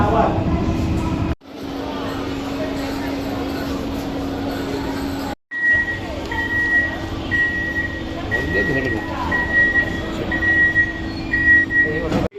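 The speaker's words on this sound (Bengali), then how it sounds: "ট্রেন এই মুহূর্তে ছেড়ে বেরোলো ব্যারাকপুর স্টেশন থেকে" A Sealdah–Kalyani AC local train departs Barrackpore station, rumbling steadily along the rails with a thin, high metallic squeal drifting in and out, while a person talks over the noise.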